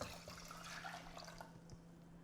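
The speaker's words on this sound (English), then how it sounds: "Pour in the 2 cups of water." Two cups of water pour into a pot of rice, a faint, steady splashing trickle with a low hum underneath.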